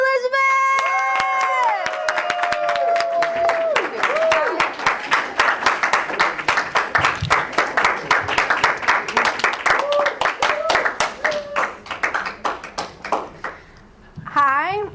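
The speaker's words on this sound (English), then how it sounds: "let us open their hearts with a huge cheer" An audience cheers and claps loudly to welcome speakers up at a talk on the importance of family, sustained applause with whoops and shouts; a voice calls out a name and the clapping fades near the end.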